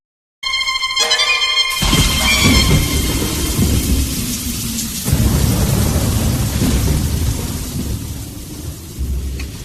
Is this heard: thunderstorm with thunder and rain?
yes